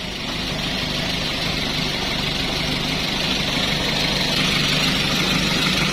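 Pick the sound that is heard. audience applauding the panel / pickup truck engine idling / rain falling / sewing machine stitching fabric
pickup truck engine idling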